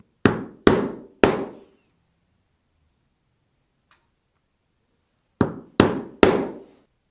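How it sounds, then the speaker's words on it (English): Pricking iron struck with a hammer through leather on a briefcase, three sharp close knocks, a gap of silence, then three more in the same quick rhythm. "I can go around with my pricking iron, penetrating all the way through, just outside of that crease line"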